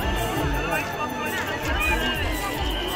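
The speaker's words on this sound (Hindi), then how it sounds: "भयानक भीड़ है।" A dense crowd fills the Khaidkona pilgrimage fair in Jashpur with a constant close wash of overlapping chatter, footsteps and hubbub, loud and unbroken throughout.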